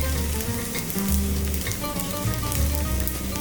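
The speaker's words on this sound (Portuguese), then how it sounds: "essa cebola já está fritando com a manteiga e o azeite, a gente acrescenta o alho picadinho também" Chopped onion and minced garlic fry in butter and olive oil for a chicken lasagna, giving a steady, close sizzle and crackle with occasional stirring and faint background tones, no talking.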